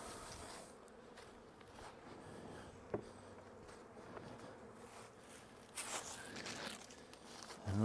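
Honeybees buzz in a low, steady drone during a spring beehive inspection, faint and close, with occasional light handling noises and rustles.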